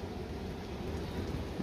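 A hailstorm with rain beats down in a steady, dense patter, with a low rumble underneath that sounds like distant thunder. No voices are heard.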